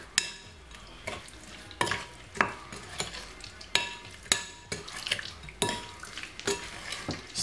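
Curry chicken with a pinch of pepper is mixed in a pan, giving rhythmic scraping stir strokes about every second over a soft sizzle, close and fairly quiet with no talk.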